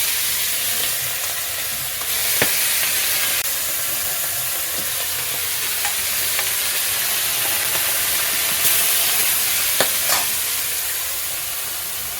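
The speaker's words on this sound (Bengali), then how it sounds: "কড়াইতে তেল গরম হয়ে গেছে এবার আমি এক একটা করে মাছ ছেড়ে দেবো" Hilsa fish sizzling and crackling in hot oil, a steady hiss with occasional sharp pops and spatters, close up and without talk.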